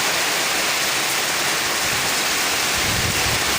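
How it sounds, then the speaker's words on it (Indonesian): Heavy rain pours down in a dense, unbroken hiss, loud and close, with no voices over it. "alhamdulillah hujan yang bagus, yang gebret"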